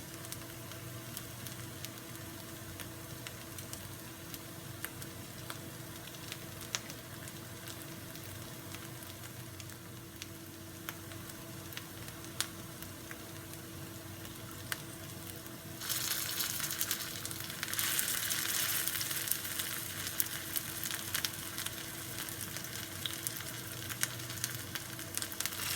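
Vegan mushroom longganisa frying in a pan, a steady close sizzle with a constant background hum that swells into a louder, brighter crackle near the end.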